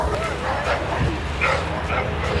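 Dogs bark and yip near a building, a few sharp barks and whimpery yelps over a steady outdoor background while people talk.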